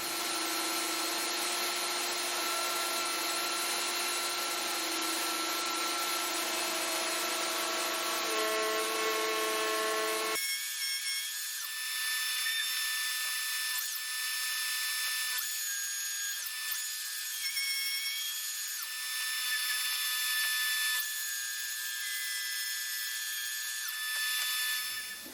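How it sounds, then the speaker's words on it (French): A router cutting a groove along the length of a wooden workbench top, a continuous high whining motor with a steady cutting drone, which shifts in tone midway and keeps going loud and unbroken. "Je vais faire une rainure sur toute la longueur, à la défonceuse, même profondeur"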